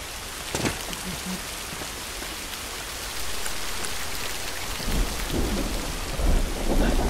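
Steady heavy rain pours in The Last of Us Remastered, with low rolls of thunder rumbling through the downpour and building louder toward the end, with no voices.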